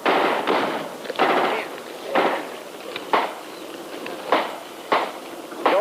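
Machine gun fire in the war video game Same Mud Same Blood comes as repeated short bursts of rapid shots, each burst crackling loud and close, with brief gaps between them and no voices.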